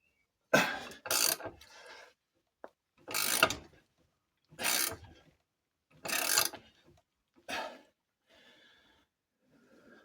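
A socket wrench ratchets on the anti-torque engine mount bolt of a Peugeot 205 GTI, working through rubber. About six close, loud bursts of rapid clicking come with short pauses between them, then faint rattling at the end.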